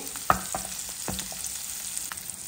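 Coated paneer pieces roasting in a little oil on a pan and being turned over, a soft continuous sizzle broken by a few sharp spatula clicks and scrapes against the pan.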